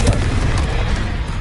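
Confringo explosive spell in the Hogwarts Legacy video game, a loud close blast with a heavy low-end boom that rumbles on briefly, filling the short moment.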